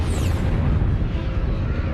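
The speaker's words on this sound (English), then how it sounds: "A supernova explosion is an incredibly powerful explosion." A supernova explosion sound effect for a space documentary, a dense, loud, low rumbling roar that holds steady for two seconds with no talk.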